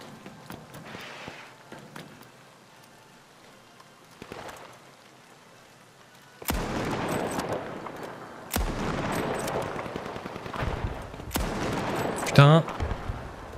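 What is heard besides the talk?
gunfire from the video game The Finals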